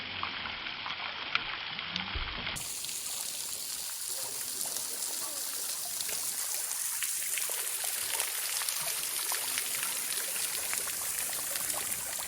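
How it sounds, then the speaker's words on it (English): Water runs over rocks at the top of an Ozark mountain waterfall in Arkansas, a steady, close, hissing rush that continues unbroken throughout. "There's water running around the top of this."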